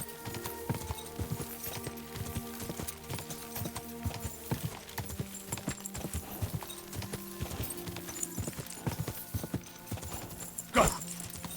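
Rhythmic hoofbeats of a horse galloping in Kingdom Come: Deliverance II, a steady fast clip-clop pounding over faint background music, with a brief horse snort near the end.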